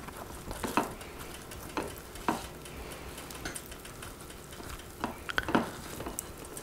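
A spoon scraping cooked, still-hot spaghetti squash flesh out of its skin, with soft intermittent scrapes and taps at uneven intervals, close but fairly quiet, no talking.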